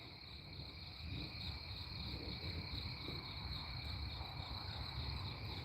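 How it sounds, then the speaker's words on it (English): Crickets chirp steadily in a backyard at sunset, a continuous high pulsing chorus, soft and ambient, with no talking. "Do you hear all that with the crickets?"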